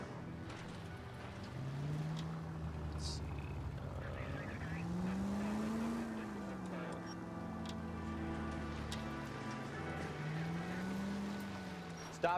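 A car drives through a video game street with a steady engine drone whose pitch rises and falls through gear changes, plus occasional tire noise and faint background chatter.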